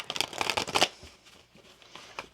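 Tarot cards shuffled by hand in a quick run of crisp riffling flutters, loud and close at first, then tapering to a few soft, scattered card slides with no talk.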